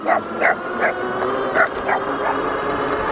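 Several dogs barking and yipping at a passing Rattan Quercus electric bike, a rapid string of sharp, close barks over steady wind and riding noise.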